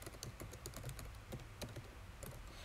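Rapid clicking of keys as code is typed on a computer keyboard, an uneven rhythm of close, crisp keystrokes with no talking.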